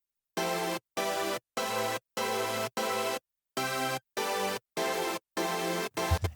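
Massive layered synth chord stack with a distinct separate top-line synth layer, struck as about ten short, evenly spaced chord stabs with silent gaps between them and a brief noisy hit at the end.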